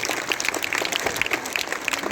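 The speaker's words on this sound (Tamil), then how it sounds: "அவங்களுக்கு நல்லா கைத்தட்டி சந்தோஷமாக வரவேற்பு கொடுங்க." An audience applauds performers at a school event, with steady, dense clapping filling the whole stretch at moderate volume and no speech over it.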